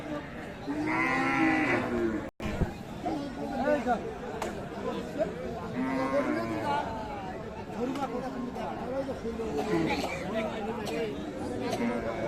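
Bulls and other cattle at a busy Dhaka cattle market in Khilkhet let out several deep, drawn-out moos at close range, rising over a constant babble of people talking around them.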